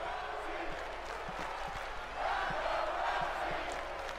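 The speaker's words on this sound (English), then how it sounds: "Nothing but Ronda chants." An arena crowd in a WWE 2K20 women's wrestling match keeps up a steady roar, swelling midway into a louder rhythmic chant that holds to the end.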